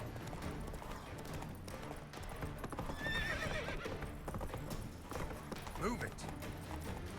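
Roach the horse galloping in The Witcher video game, rapid continuous hoofbeats running throughout with a whinny near the end, under a busy game soundtrack and talk.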